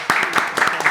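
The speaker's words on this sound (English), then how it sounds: "Let's clap for the GOAT." Audience clapping for guests on a music festival talk show, a short burst of hand claps in an uneven rhythm, close and fairly loud.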